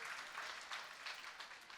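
Audience applause welcoming a guest speaker at a Gujarati talk event, a steady wash of clapping filling the room with small surges throughout, no voices over it.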